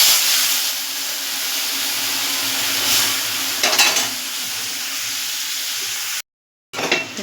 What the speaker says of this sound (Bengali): এইবার কড়াইতে তেল দিয়ে কালো জিরা ও শুকনো লঙ্কা ফোড়ন দিয়ে এবার ডালটাকে আমি এর মধ্যে দিয়ে দেবো